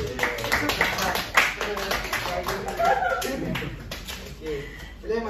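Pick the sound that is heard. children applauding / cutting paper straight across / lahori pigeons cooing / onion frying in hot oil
children applauding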